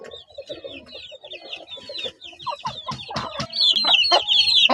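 A Claret gamefowl hen with an injured left wing and her chicks cluck and chatter nearby, with busy overlapping calls and short squawks growing louder toward the end.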